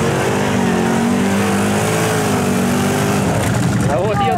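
A Can-Am Outlander 800R ATV engine revs hard and loud up close, its droning pitch swelling and rising, then wavering near the end.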